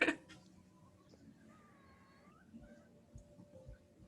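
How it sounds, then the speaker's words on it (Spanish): A pet cat gives a single soft, drawn-out meow midway through, faint and fairly distant against a quiet room background. "Mareni, tu gato está muy bonito."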